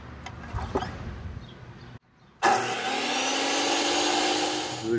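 A power tool cuts through quarter-inch wood while a custom fire table is being built. A quiet stretch breaks off, then a loud, sustained, even whirring grind starts abruptly nearby and holds steady.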